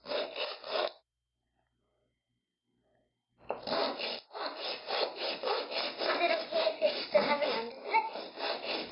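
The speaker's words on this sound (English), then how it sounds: "when you just sand it, it kind of flattens it so you don't get cut" Sanding the sharp cast edges of a resin toy by hand, a close, loud rasping scrub in rapid repeated strokes, one short burst, then a pause of silence before a longer steady run.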